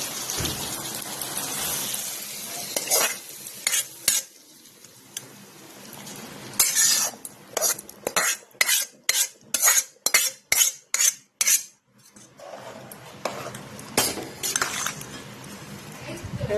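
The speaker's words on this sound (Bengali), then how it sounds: "এটা আমি এবার কি করছি, ওই খিচুড়ির এর মধ্যে ঢেলে দিচ্ছি।" Spice mixture poured into khichuri and stirred through in a metal pot, bursts of scraping and clattering with a fast run of rhythmic utensil strikes against the pot in the middle, close and fairly loud, no talking.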